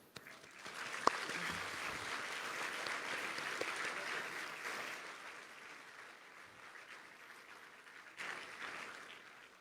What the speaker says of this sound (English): Let's give them a heartfelt round of applause.